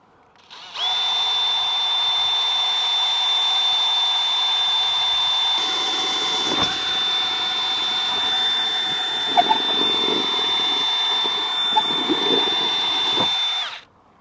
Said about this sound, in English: I'm going to have to use this one first to drill through it